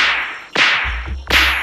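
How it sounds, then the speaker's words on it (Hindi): Two sharp, loud slaps land about three quarters of a second apart in a comic Hindi-language story scene, each a hard impact with a quick decay. "3 चपेड़ मारे साले"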